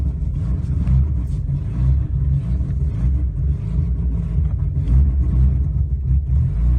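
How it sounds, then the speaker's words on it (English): A Nissan N13 Sunny/Pulsar engine idles roughly and unevenly up close, with a low rumbling exhaust and a rasping, sputtering edge from an exhaust leak throughout. "Still got to fix that exhaust leak."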